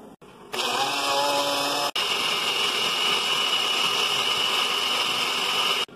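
A blender grinds ingredients with water in a large jug, a loud continuous whirring roar that starts abruptly, pauses briefly mid-run, then resumes steadily with a high whine.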